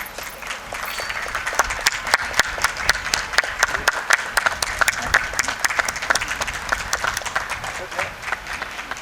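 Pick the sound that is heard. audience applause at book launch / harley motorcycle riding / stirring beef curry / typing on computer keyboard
audience applause at book launch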